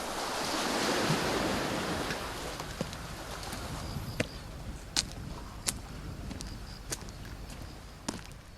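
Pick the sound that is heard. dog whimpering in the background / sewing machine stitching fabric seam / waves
waves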